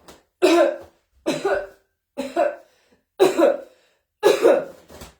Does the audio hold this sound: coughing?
yes